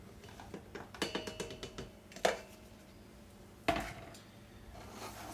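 Clattering and tapping in a bowl as dog treat ingredients are stirred together with wheat flour, a quick run of light knocks followed by two sharper clinks, fairly close and without talk.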